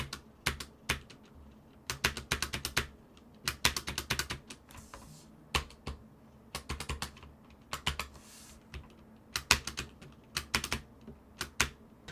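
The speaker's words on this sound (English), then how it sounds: "Let's drop a sound test for you guys so you guys can hear what I'm talking about." Typing on a SteelSeries Apex Pro keyboard with OmniPoint switches, steady bursts of close, crisp keystroke clicks with short pauses between runs, no voices.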